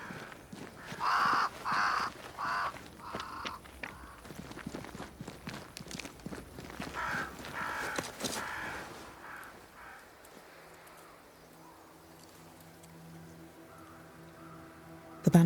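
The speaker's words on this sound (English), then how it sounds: "Crows. They flock to that great tree up there." Crows caw in a series of rough, repeated calls in the game Banishers: Ghosts of New Eden, mixed with hoof clip-clop and footsteps, fading to a quiet low hum toward the end.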